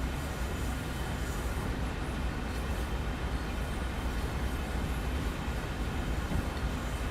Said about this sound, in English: Let's just let it roll for a moment, let the train settle down, and we'll start applying a bit of power.